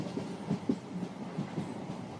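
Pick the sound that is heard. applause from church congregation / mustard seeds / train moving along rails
train moving along rails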